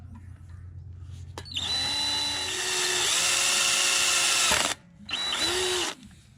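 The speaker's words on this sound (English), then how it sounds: "Drilling this in to get this throttle linkage to set in there." A power drill whines up close, boring a hole for a throttle linkage on a Coleman CC100X mini bike, with a long high-pitched run, a brief stop, then a second shorter burst.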